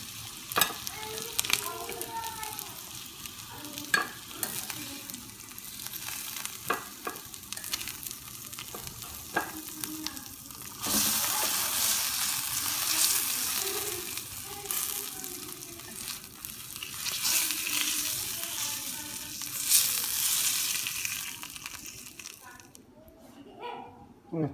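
Entrecote steak sizzling on a hot stone, a continuous frying crackle that swells louder midway, with scattered clicks and utensil knocks, a dog barking at moments and occasional voices.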